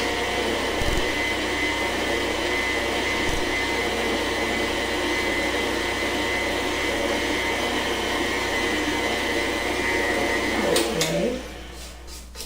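Electric hand mixer beaters whir steadily through banana bread batter, a continuous close motor drone that runs unbroken and stops near the end, followed by quieter handling noise.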